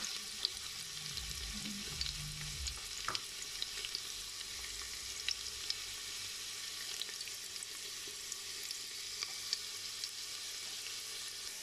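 Ginger and garlic fry in a pan for Indian cooking, a faint, even sizzle with small crackles and a brief stirring clatter near the start.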